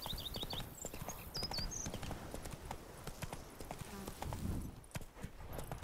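Roach, a horse in the video game The Witcher 3, trots with a steady, rhythmic clip-clop of hooves throughout, while chirping birds sound in the background.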